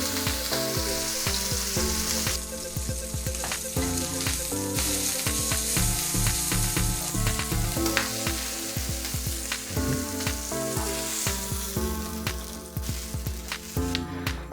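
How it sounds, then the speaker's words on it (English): Steak searing in a pan coated with olive oil, a steady sizzle running throughout beneath fairly loud background music with a regular beat. "let's sear our steak for a couple of minutes per side"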